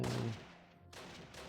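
Rapid bursts of gunfire from the World War II strategy game Close Combat: Wacht Am Rhein, a loud crackling volley at the start that fades into scattered, softer distant shots.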